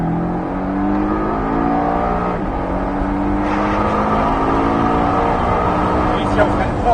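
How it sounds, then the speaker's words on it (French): A Porsche Cayman S accelerates at full throttle on the Pôle Mécanique d'Alès track, its engine note climbing loud and steady throughout. "on accélère à fond"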